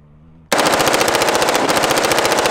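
Gunfire rings out at Dragon Man's shooting range: a loud, close, rapid string of shots that begins abruptly and continues for about two seconds.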